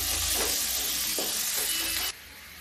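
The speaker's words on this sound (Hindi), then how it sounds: "अब डाल देते हैं थोड़ा प्याज, इसको भून लेते हैं प्याज को" Onions frying in a pan with spices such as cinnamon and garam masala, a steady close sizzle with a few soft stirring scrapes, cutting off abruptly near the end.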